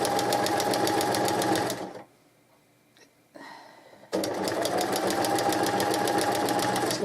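A sewing machine stitching quilt binding hums in a fast, steady needle rhythm, close and clear, stops for about two seconds of near quiet with a faint clatter, then starts stitching again at the same pace.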